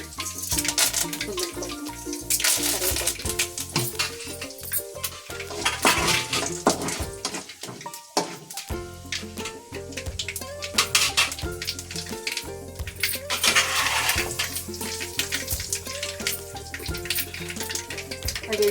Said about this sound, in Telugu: ఆవాలు చిట్టుపట్లు అయిన తర్వాత ఎండుమిరపకాయలు వేసేసుకోండి.